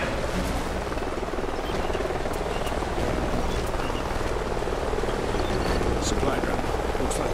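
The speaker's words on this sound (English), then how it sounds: "Sounds like a chopper's up ahead of us." In Call of Duty: Ghosts, a helicopter drones steadily from somewhere ahead in a canyon, its loud continuous rotor roar filling the scene while voices talk over it.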